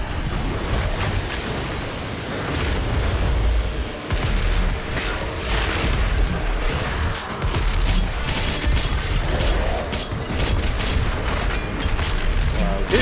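Heavy grenade explosions in the shooter game DOOM Eternal, with repeated deep booms crashing over a constant, dense roar of combat noise throughout.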